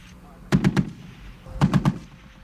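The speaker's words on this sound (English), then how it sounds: "heavy machine gun." A heavy machine gun fires two short bursts of about three rounds each, loud sharp reports separated by a brief pause, with some outdoor background noise.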